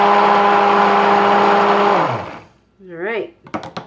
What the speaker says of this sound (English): I'm going to keep that to the side, the stick blender, in case I need it again.